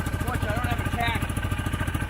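A Z Force Moto Z6 engine idling low, a steady, rapid putter with an even pulsing rhythm that runs close and unbroken throughout.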